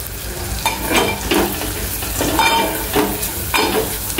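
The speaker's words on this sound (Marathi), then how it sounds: "हळद आणि मीठ जे आहे आणि मसाला तेलामध्ये चांगलं परतून घ्यायचंय, पूर्ण तळून घ्यायचंय।" Turmeric, salt and masala sizzle and fry in hot oil while being stirred, giving a steady crackle with rhythmic scraping strokes about every second. It is close and moderately loud, with no talking.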